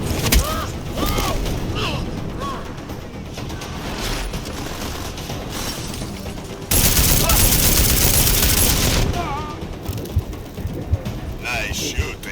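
Gunfire in the video game Deus Ex: Mankind Divided, a sustained burst of rapid shots and clatter mixed with game noise, with a louder dense stretch midway and voices speaking over it.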